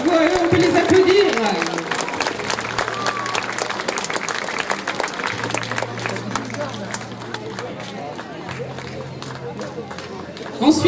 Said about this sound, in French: Bravo à eux, on peut les applaudir.